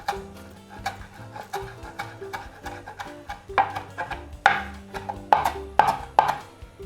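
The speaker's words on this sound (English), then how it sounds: "So I'm just gonna do a rough chop." A knife roughly chopping fresh parsley on a cutting board, in a steady run of about a dozen sharp, close taps that grow slightly louder toward the end, with no talking.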